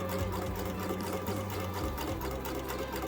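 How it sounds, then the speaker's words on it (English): Sewing machine stitching a quarter-inch seam through quilt fabric, a fast continuous mechanical whir with rapid needle rhythm, close and steady for the whole stretch. "I'm just going to sew that 1/4 inch all the way down"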